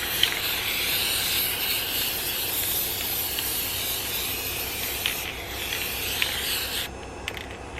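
A faulty Rust-Oleum spray paint can spraying, a continuous close hiss that runs unbroken for several seconds before thinning out, with a few faint clicks near the end.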